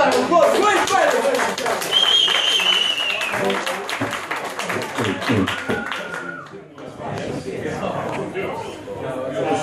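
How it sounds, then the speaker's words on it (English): Pub audience at the Bay Horse in Manchester claps for a performer about to play, loud applause mixed with crowd chatter and voices throughout, with a brief whistle-like tone near the start. "give him a big round of applause, please, Bailiff!"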